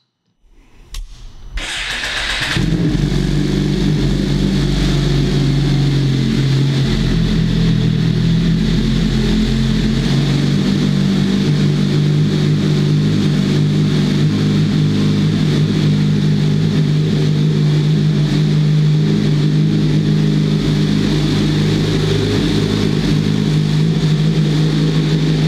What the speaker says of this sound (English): Let's go ahead and fire it up and listen to how it sounds.